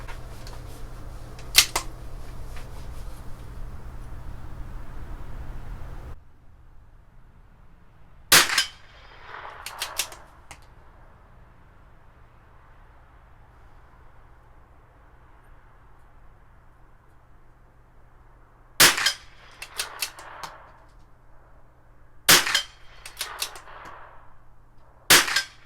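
A CZ 457 .22 rifle is fired offhand at 50 yards, with five sharp, fairly loud cracks spaced irregularly across the stretch, some followed by faint rattling, against a low background hum that drops away early on.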